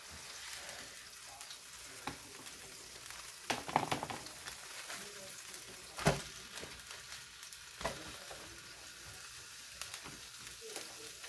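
Food cooking in a hot frying pan gives a faint, steady sizzle and crackle with a few louder pops and clatters, heard alone without talk.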